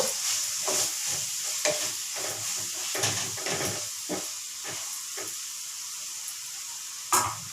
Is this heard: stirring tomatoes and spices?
yes